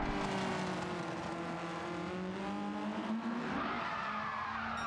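A race car spinning out off turn one in a racing game gives a continuous engine whine whose pitch slides and wavers, with tire skidding mixed in, steady and fairly close throughout.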